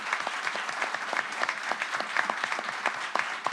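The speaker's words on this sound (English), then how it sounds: "One final round of applause." An audience at a chamber of commerce gathering applauds steadily, a dense even patter of many hands clapping throughout, close and continuous.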